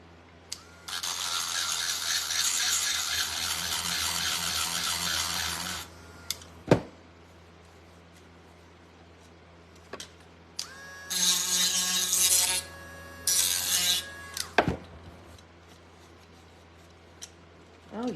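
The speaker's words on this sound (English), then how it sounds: "So this is like my Dremel tool with my grinder tool on it." A Dremel rotary tool fitted with a grinding bit sands a wooden sugar glider toy, whining in two bursts of several seconds each, with sharp clicks and handling knocks between them and no speech.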